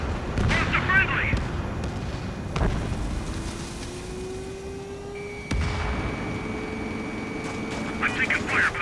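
Gunfire and heavy booms in the Ace Combat 7 flight combat game during a CFA-44 Nosferatu mission, with loud impacts, jet engine drone and radio chatter from pilots over the battle.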